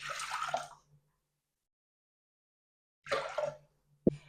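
Water is poured over soaked lentils in a pressure cooker for sambar in two short splashing bursts separated by a long silence, ending with a quick plop or clink, faint and close.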